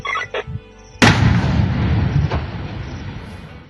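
Obsolete, expired munitions from the MONUSCO forces being destroyed in South Kivu: a single loud detonation booms out after a second of faint background sound and rolls on in a long, heavy rumble that slowly fades.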